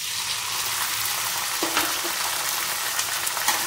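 Chopped tomato and onion fry in a hot pan with a steady, close sizzle and a few soft stirring sounds mixed in.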